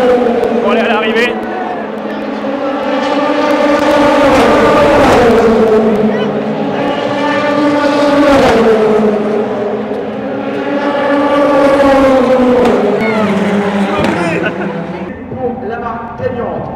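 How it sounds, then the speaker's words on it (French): Race cars at the 24 Hours of Le Mans 2023 centenary cross the finish line one after another, engines rising and falling in repeated pass-bys under a cheering crowd and talk. "les voitures passent la ligne, toute une par une"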